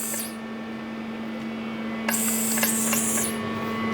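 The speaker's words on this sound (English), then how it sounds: "it's a pulse for half a second. And then every 3 pulses, we get a blast of air." Thermublast spray-cooling unit for machining chip management gives short hissing spray pulses and a sharper air blast, starting about halfway through over a steady mains hum.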